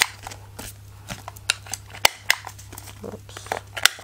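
Craft paper corners being rounded with a cutting tool, heard as a run of close, crisp snips and small papery crackles at an irregular pace over a steady low hum.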